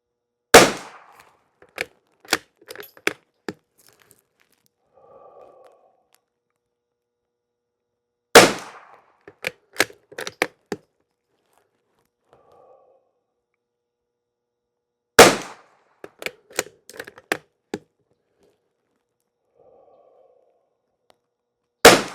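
Three strings of rifle shots fire unlubed CCI SV rounds at targets, each opening with a sharp loud crack followed by several quicker pops, with quiet gaps between strings.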